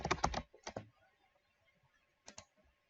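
Brief bursts of close computer keyboard typing, a quick flurry of keystrokes at first, then a few scattered clicks and a final pair of taps.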